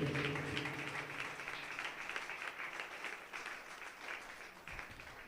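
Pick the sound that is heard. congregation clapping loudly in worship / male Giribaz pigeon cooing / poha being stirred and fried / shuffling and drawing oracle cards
congregation clapping loudly in worship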